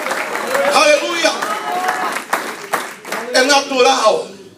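A church congregation claps together during a lively worship service, a dense, continuous patter of hands mixed with crowd voices and cheering throughout.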